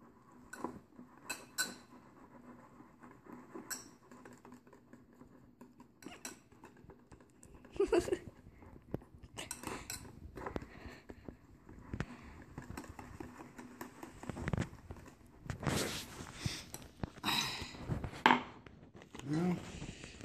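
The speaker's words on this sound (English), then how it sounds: "Hold the bowl still and stir." Bread mix being stirred in a bowl with a utensil, producing irregular scraping and clinking knocks of varying loudness, fairly close, with quieter stretches between bursts.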